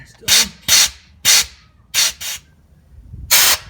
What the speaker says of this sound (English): as we blow this out with our air compressor, you can see it's soaking that rag quite a bit.